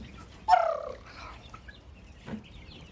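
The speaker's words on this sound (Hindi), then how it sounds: "ये टोटली फार्म फेड मुर्गियाँ हैं" Farm-fed chickens on an organic farm, one loud close squawk or cluck followed by fainter scattered clucks and rustling as the birds move about, with no talking.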